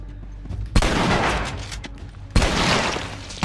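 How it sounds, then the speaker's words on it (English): Enemy gunfire in a hotel level of The Last of Us: two loud bursts of rapid shots, each opening with a sharp crack and trailing into sustained rattling noise. "Combat will draw the gunfire of your foes."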